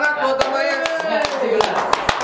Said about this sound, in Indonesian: Tepuk tangan buat Om Ayas.